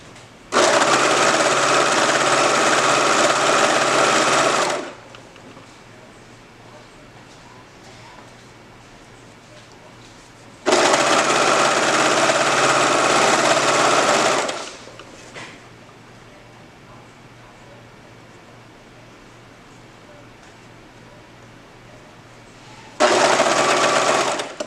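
A sewing machine stitches fabric for a multipurpose headband in three bursts of rapid, steady whirring, each lasting a few seconds and separated by quieter pauses, with occasional soft voices in between.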